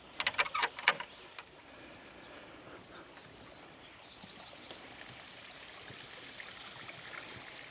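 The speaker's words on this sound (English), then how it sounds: "More of a natural style pond with lots of goldfish, koi, a few long fins." Water flows in a steady, soft trickle through a natural-style garden pond about eight feet deep with goldfish and koi, while birds chirp faintly around it after a few sharp knocks at the start.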